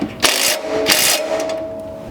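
Mechanical whirring from a socket tool tightening a 12 or 13mm bolt on a washer bottle skid for a 4th or 5th gen Toyota 4Runner, two loud bursts of ratcheting noise over a steady background hum.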